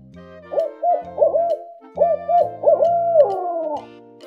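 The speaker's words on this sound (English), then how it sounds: "Owl." A cartoon owl gives a series of clear, wavering hoots in short rhythmic phrases, loud and close over soft background music.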